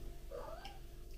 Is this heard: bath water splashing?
no